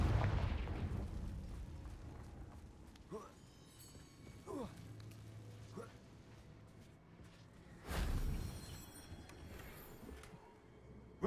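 The Confringo fire spell explodes in Hogwarts Legacy, a sharp blast at the start and another burst later, with game sounds and voices around.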